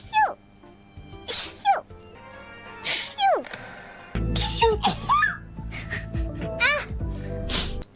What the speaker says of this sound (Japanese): くしゃみが出た。